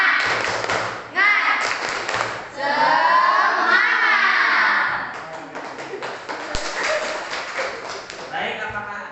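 Classroom students perform a rhythmic clap-and-chant routine, sharp hand claps and thumps in bursts mixed with loud shouted group voices, close and energetic, with the pattern repeating over several seconds.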